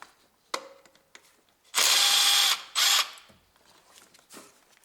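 Power tool or ratchet removing a 10mm bolt from the fuel rail of a 2002–2009 Toyota Prius 1.5 engine, two loud close bursts of whirring with light clicks and handling noise around them.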